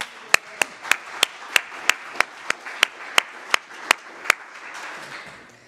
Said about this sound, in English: With a warm applause.